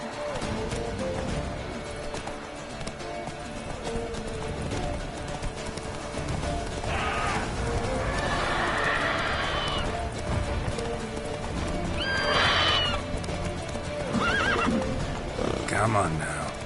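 Roach the horse gallops with rapid, steady hoofbeats in The Witcher 3, letting out loud neighs partway through, while a voice speaks over the running hooves.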